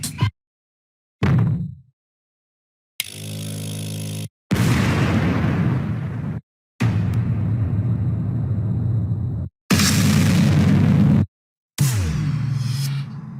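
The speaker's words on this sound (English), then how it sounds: "if I search for a boom sound, to add emphasis on top of ClickFunnels Mega Masterclass, there's a lot of boom sounds here," A run of booming impact sound effects from the CapCut library: about six loud, deep blasts with rumbling tails, each cut off by a short silence before the next.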